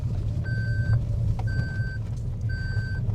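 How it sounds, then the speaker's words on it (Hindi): Three evenly spaced electronic rear-seat belt reminder chimes in a non-hybrid Maruti Brezza, each a steady tone held about half a second, over a low, constant engine hum inside the car. "सीट बेल्ट का रिमाइंडर आ रहा है"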